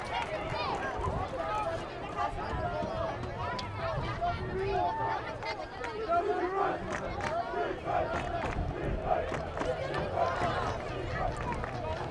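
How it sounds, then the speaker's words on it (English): Soccer fans packed into the stands at a varsity boys game between Marshfield and Duxbury, a steady crowd roar with cheering and shouts running the whole time, loud and dense with babble. "The Marshfield stands packed with fans. Everybody cheering on Marshfield"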